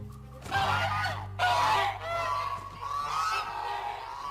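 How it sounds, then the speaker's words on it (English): A flock of geese honking loudly and repeatedly, overlapping harsh calls in bursts over a steady low hum. "Geese? You can hear their honks all the way in Yes. Ponyville."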